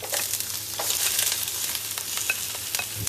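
Onions and garlic frying and being stirred in a pan for a Kerala-style soya chunks dish, a steady close sizzle with scattered scraping stir strokes throughout, no talking.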